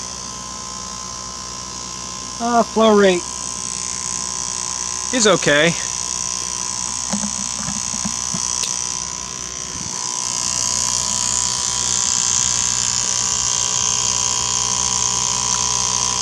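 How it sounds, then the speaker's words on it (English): A 12-volt electric oil pump motor runs continuously during an oil change with a steady high-pitched electric whine and buzz, close and loud throughout, while someone speaks briefly over it. "I guess the motor sounds much better."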